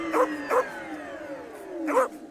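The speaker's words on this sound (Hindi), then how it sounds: "अरे बाप रे, इन कुत्तों को भी अभी पीछे पड़ना था।" Cartoon dogs bark while chasing a rickshaw, three sharp barks spaced apart, with a steady tonal hum running underneath.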